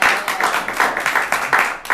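A crowd applauds in a steady burst of claps, fairly close and lively, lasting a couple of seconds with a few voices mixed in.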